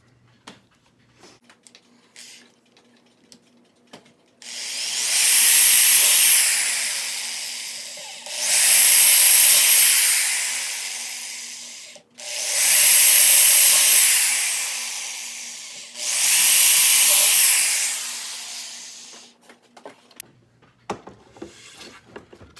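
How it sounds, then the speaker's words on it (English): A power drill bores into wood during restoration of an early 20th-century clock case, four loud whirring bursts of several seconds each, separated by short pauses, with quiet handling noises before and after. "And now we drill."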